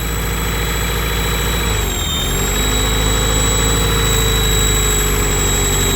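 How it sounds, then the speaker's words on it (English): A Honda Prelude engine with a suspected vacuum leak idles high and steady, a loud, close, droning hum with a brief dip in pitch partway through before it settles back to the same high idle. "It's idling really freaking high."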